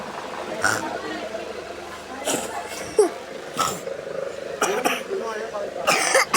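Several short, harsh coughs scattered through a few seconds, mixed with throat-clearing sounds and some murmuring voices nearby.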